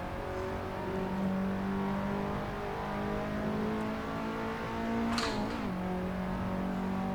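Race car engine droning steadily in the Assetto Corsa sim, a continuous mid-level whine with a quick shift blip and drop in pitch near the end, alone without talk.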